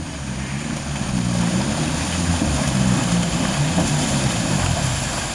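A Sherp all-terrain vehicle being driven on a rough trail: a steady, loud droning engine with deep low throbbing and constant broadband roar, continuous throughout without talk.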